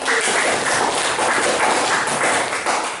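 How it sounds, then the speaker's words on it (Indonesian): Applause from a classroom of students, a dense, steady patter of many hands clapping that fills the whole stretch at an even, fairly loud level. "Tepuk tangan untuk Mas Alfi"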